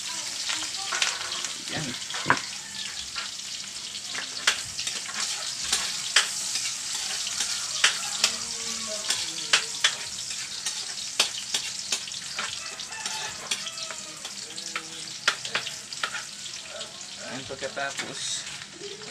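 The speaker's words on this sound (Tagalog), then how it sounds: "So lagay muna natin yung mga panakot natin guys. Diluya, sibuyas at saka bawang." Ginger, onion and garlic frying in a pan for Filipino humba, a steady sizzle with stirring scrapes and clicks throughout, close and fairly loud, with a brief spoken word over it.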